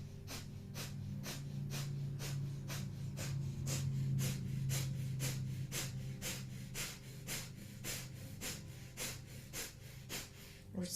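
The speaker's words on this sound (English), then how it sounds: "here we will begin breath of fire, panting like a dog through the nose" Rapid, rhythmic breath of fire panting through the nose during a kundalini yoga kriya, steady sharp exhales pulsing about twice per second for the whole stretch, close and continuous with no talk.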